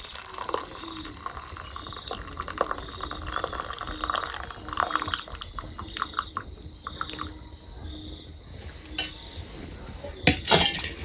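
Herbal Ayurvedic decoction is strained, pouring and trickling into a metal pot, with clinking of utensils and a sharp clatter near the end.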